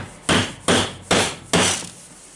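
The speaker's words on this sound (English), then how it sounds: "we can just put it on a table and hammer it slightly" Four sharp, evenly spaced hammer blows tapping a ball bearing onto the armature of a Milwaukee M18 CBLDD brushless drill motor on a table, each strike loud and close with a brief ringing decay.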